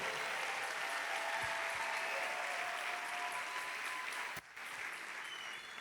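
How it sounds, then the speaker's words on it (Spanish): A church congregation at a bilingual worship service applauds in steady, continuous clapping, moderately distant and fairly quiet, with a brief dip near the end before it resumes. "Dale un aplauso fuerte"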